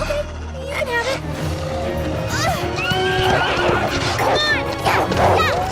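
An animated horse whinnies loudly during a wolf attack, several rising and falling neighs over galloping hooves and rushing commotion, with excited voices calling out between the calls.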